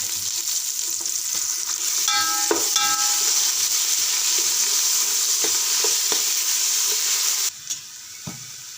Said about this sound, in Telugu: ఉల్లిగడ్డలు మగ్గనివ్వాలి